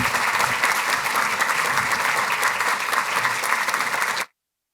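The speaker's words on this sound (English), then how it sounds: "Please give them a round of applause as they come forward." Steady audience applause at a public event welcoming a U.S. Surgeon General, a dense even wash of clapping lasting about four seconds with no talk, then stopping abruptly.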